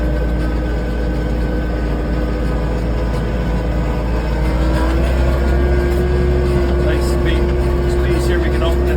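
A TYM T474C tractor engine drones steadily and loud while driving through a cedar trail at night, its pitch rising partway through as the throttle opens.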